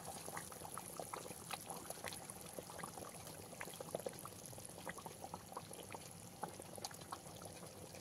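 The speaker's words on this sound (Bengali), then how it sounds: "জলটা দিয়ে কিছু সময় ফুটিয়ে নিয়েছি, এবারে একে একে মাছগুলো দিয়ে দেবো।" Pieces of katla fish go into a gently boiling gravy, with soft bubbling and scattered small splashes and pops that are quiet and continuous throughout.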